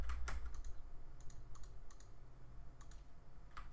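Keys clatter in quick irregular bursts as someone types on a computer keyboard, close and fairly quiet over a low steady hum.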